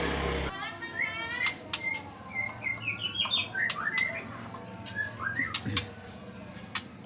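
A wild, untamed magpie robin (murai) gives a run of short rising chirps and whistled notes, moderately close and fairly faint, with sharp ticks scattered through the song.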